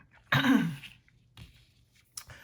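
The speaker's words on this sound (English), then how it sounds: "I try not to cough." One close, forceful cough followed by a couple of smaller throat sounds, with no talking.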